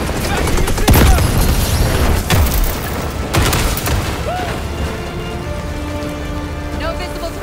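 Rocket explosion in Call of Duty: Black Ops 6, a few heavy booming blasts over a constant rumbling, rain-like roar of battle, with faint voices in the background.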